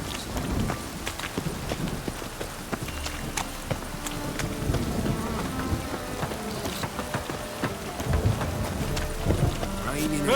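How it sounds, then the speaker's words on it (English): Rain and thunder in The Witcher 3 game world, a continuous patter of rain with rumbling thunder beneath, mixed with hoof clip-clop and faint voices in a dense, steady ambience. "Raining."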